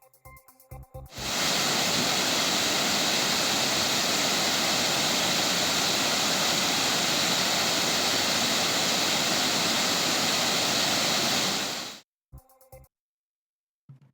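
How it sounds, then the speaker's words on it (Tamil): Kumbakkarai waterfall pouring heavily after strong rain, a dense, loud, unbroken roar of crashing water that fills the scene for about eleven seconds before cutting off abruptly. "அருவியில் நீர் ஆர்ப்பரித்து கொட்டி வருகிறது"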